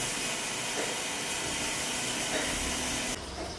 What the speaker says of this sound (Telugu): ఇప్పుడు ఈ అల్లం వెల్లుల్లి పేస్ట్ కూడా పచ్చివాసన పోయే వరకు ఫ్రై చేసుకోవాలి